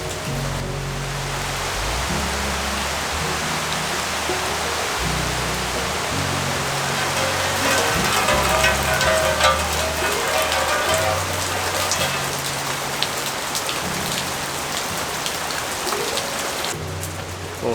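Heavy rain pours steadily outside a cave during a camping trip, a dense, even hiss of drops drumming on rock and ground close by, unbroken throughout with no voices.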